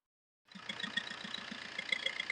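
After a moment of silence, a used car's engine comes in and settles into a rhythmic, pulsing idle, moderately close and steady, with no one speaking.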